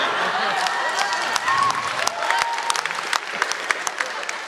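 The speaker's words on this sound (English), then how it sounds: "Why are you cheering for that?" Convention crowd at PAX West cheering and applauding, a dense wash of clapping with scattered sharp claps and faint shouts, fairly close and continuous throughout.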